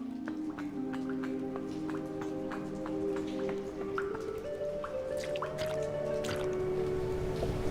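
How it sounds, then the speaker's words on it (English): High-tech water or sewage pumping machine in the Jenny LeClue game, giving steady dripping, squishing liquid sounds and gurgles over a low whirring hum with shifting pitched tones. "I think it pumps water or sewage through all these pipes."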